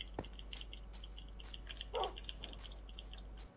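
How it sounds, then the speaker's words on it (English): A dog in the video game Minecraft gives a few short barks and a whimpering whine, small and intermittent over a steady low game hum, with no one talking. "And I found another dog."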